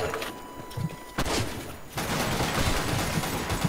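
Rapid pistol gunfire from an online shooter game, dense bursts of shots packed together with a brief lull partway through, loud and continuous to the end.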